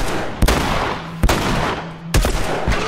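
Three sharp, loud gunshots from Ellie firing at an enemy in The Last of Us, evenly spaced roughly a second apart over a steady background rumble, with no talking.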